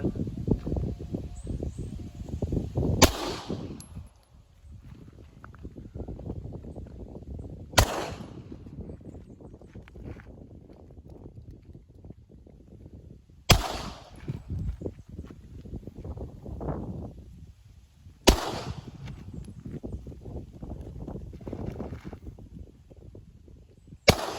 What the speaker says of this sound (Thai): ต่อไปเราจะเป็นการทดสอบก๊อก17 เจน4นะครับ ทดสอบหลายท่าก่อน ยิงกันอีกแล้วเลยเนี่ย